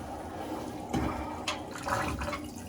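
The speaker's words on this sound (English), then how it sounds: "right now we're just draining that whole system that we had tested" Water rushes and gurgles as it drains out of a freshly tested heating plumbing system, with surges of flow and splashing, close and moderately loud.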